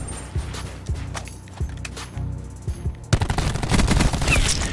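Rapid gunfire from a video game shooter, sharp repeated shots in short bursts, then a dense, loud flurry of overlapping blasts toward the end, with no talking.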